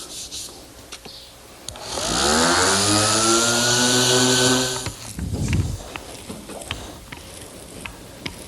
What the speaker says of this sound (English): Sanding the edges of the oak smooth to the particle board